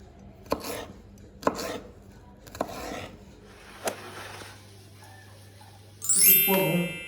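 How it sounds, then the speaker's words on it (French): A knife chops bell peppers on a board in a home kitchen, giving four or five sharp, separate cuts spaced about a second apart, followed by a brief clatter of dishes. "Admirer la technique de découpe."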